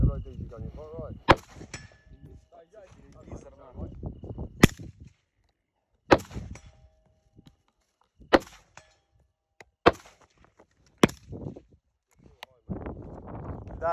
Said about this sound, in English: That's the Rhodesia gun.